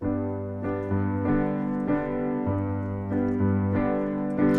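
A piano plays the repeating low left-hand bass line of a song in steady eighth-note rhythm, notes changing every half second or so, clear and close with no talking.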